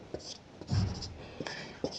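Pen or chalk writing during a class 10 maths lesson on circles, soft scratching strokes with faint whispery speech and handling sounds underneath.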